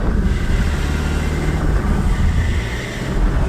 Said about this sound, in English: More throttle, more throttle, more throttle. So the wheels are spinning.